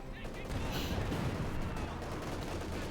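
Sustained small-arms gunfire from a Company of Heroes 2 match rattles steadily at moderate distance. It forms a dense, continuous battle bed with faint background voices.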